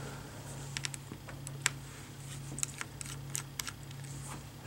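Screws being taken out one by one from a Lenovo B50 laptop during a cracked screen replacement, a quiet run of small clicks and ticks over a low steady hum, with no talk.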